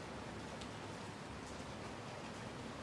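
Steady rain in the GodSIM video game, an even, faint hiss of falling drops with no pauses, alone without voices.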